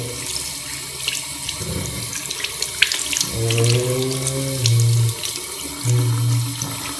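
Water from a tap pours steadily into a sink as a pet hamster is washed under the stream, a constant near rushing with a few tonal swells partway through.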